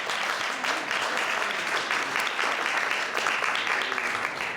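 Audience at an awards ceremony in London applauding, a dense, steady round of clapping from many hands that stays loud throughout.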